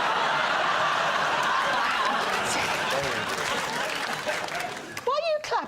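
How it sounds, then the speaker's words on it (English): Studio audience on a British comedy panel show clapping and laughing for about four seconds, a dense steady wash of applause that thins out before a voice begins talking. "Why are you clapping?"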